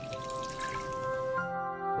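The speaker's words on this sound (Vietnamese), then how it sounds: "Kế tiếp thì mình cho vào 1 lít nước dừa tươi." Fresh coconut water pouring into a cooking pot of meat, a short gurgling, trickling stream with some ringing resonance that stops near the end, close and moderately quiet, no voices.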